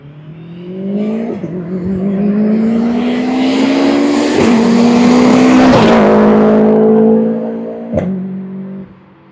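A tuned Subaru Impreza making over 600 hp revs up with a loud, rising engine and exhaust note that holds high for several seconds. It then drops back, with a sharp pop near the end.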